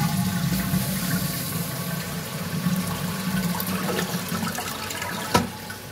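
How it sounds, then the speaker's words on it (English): Toilet flushing in a home bathroom, a steady rushing and gurgling of water that runs through the whole stretch at moderate level, with a brief sharp knock near the end. "even when you flush the toilet, it never goes completely empty"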